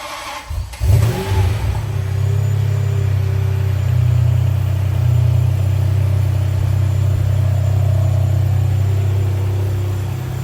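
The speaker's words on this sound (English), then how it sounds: "we're gonna go do a cold start and see how it runs" A 2000 Ferrari 550 starts from cold: a brief cranking whir, then the engine catches with a rising burst and settles into a loud, steady, deep idle that holds close and even.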